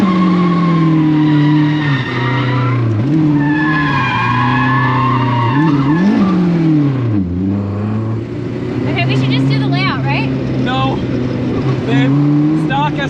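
A stock Nissan S13 drifts with its tires skidding and the engine revving in sliding, wavering tones throughout, loud and close, while people talk over it.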